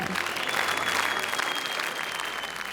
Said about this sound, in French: Beaucoup d'applaudissements, quelques huées